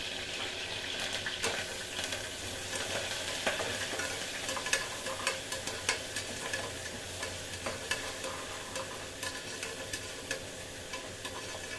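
Curry leaves sizzle and crackle in hot oil while being stirred for banana flower biryani, a steady frying hiss with scattered pops and spoon scrapes running throughout, close and even.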